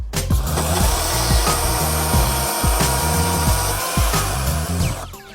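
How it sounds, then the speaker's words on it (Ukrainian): A Sturm CC9940CL cordless 40V chainsaw cutting through wood under its own weight, a loud steady motor whine with rhythmic chain chatter, stopping abruptly at the end of the cut. "А тепер давайте під вагою самої пилки, не тиснучи, заміряємо, скільки займе часу один різ."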